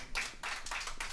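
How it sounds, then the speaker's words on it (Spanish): A congregation at a church service claps in steady rhythmic bursts, several quick rounds of hand clapping in a short stretch, fairly distant and with no voices over it. "Damos un aplauso grande al Señor"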